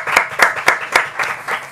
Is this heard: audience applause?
yes